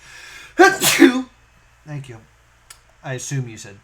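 A single loud, sharp sneeze near the start, followed by a person speaking briefly in a quiet room.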